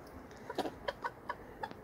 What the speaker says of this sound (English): And ordinarily you would not put new chickens in with an existing bird straight away, but Sandy's been on her own for quite a whi